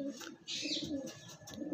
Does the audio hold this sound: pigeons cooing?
yes